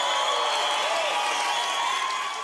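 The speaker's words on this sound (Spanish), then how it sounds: "Recibamos con un fuerte aplauso a Chucho" Audience applause and cheering greeting a performer on a comedy stage, a dense crowd roar with music tones sustained underneath, even and loud throughout.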